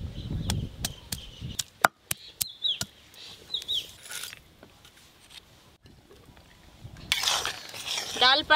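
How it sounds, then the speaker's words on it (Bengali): Garlic cloves are crushed for jute-leaf dal with a series of sharp, rhythmic chopping strikes, close and loud, that ease into softer clinks and scraping before a final burst of knocks. "পাট শাকের ডালের জন্য রসুনগুলো থেতো করে নেব।"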